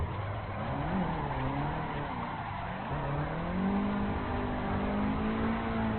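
A drift car in Assetto Corsa revs and accelerates hard as it slides, engine pitch climbing steadily with faint tire noise, close and continuous with no talking.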